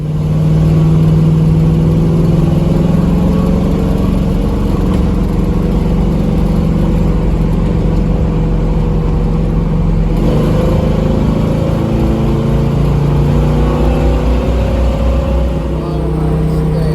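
Car interior engine drone from the Project Lacquer Head car while driving, a loud steady low hum with slowly shifting pitch as speed changes, continuous throughout with a brief shift near the middle.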